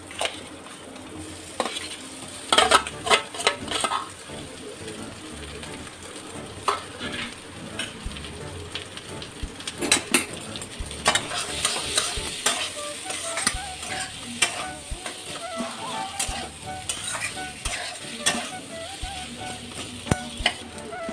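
Potatoes tossed into spiced masala that has already been fried down, stirred in a pan with steady sizzling, scraping spoon strokes and occasional clinks of utensil against metal, close and continuous.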